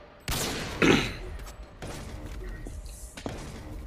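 Sniper rifle fire in Modern Warfare 2, a loud sharp crack near the start followed by a heavier boom, then two fainter later reports against low game ambience.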